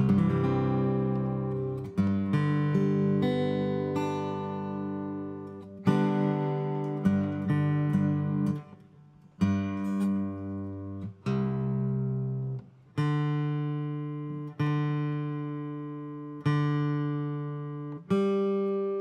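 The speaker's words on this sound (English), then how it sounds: "Sorry for all this tuning" An acoustic guitar is being tuned with single plucked notes and short strums, repeated every second or two, each ringing out and fading before the next pluck.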